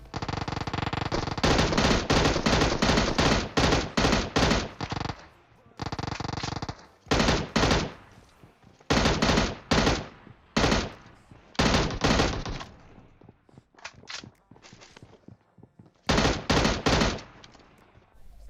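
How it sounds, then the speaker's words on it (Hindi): Rapid bursts of M16 rifle fire in the mobile battle-royale game PUBG Mobile, loud and close, coming in repeated automatic volleys separated by short pauses, with no talking. "और मेरी M16 भी खाली हो जाती है"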